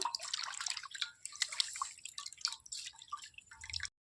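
Chopped onions, ginger and garlic are rinsed with water, giving close, continuous splashing, trickling and dripping sounds with no talking.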